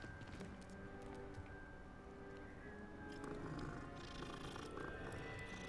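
A cat purring in Hogwarts Legacy, a soft continuous rumble close by, faint under game ambience.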